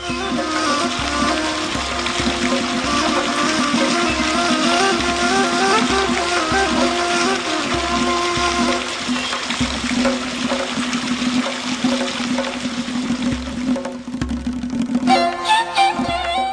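Continuous rushing water flowing through a canal into ornamented pools, a dense steady wash with some tonal underlay, loud and close throughout.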